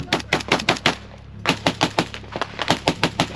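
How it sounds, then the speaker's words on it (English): Machine gun fire in a combat battle, sharp loud bursts of rapid shots, a short pause, then more quick volleys close by. "So that's when a lot of IDF and machine gun fire started opening up."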